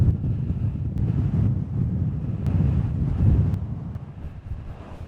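Strong wind buffets the microphone on a golf course at Jack's Point, a steady low roaring rush with gusty swells and occasional faint ticks, loud and close, with no voices.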